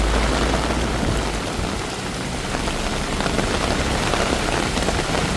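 Hard February downpour in Bangkok's Koreatown, a loud, dense, unbroken roar of rain pounding the street, close and steady from start to finish, with no voices.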